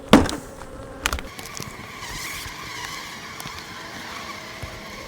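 Honeybees swarm around an opened Apimaye nuc hive during a queen cell split, a steady droning buzz filling the air, with a couple of sharper knocks near the start.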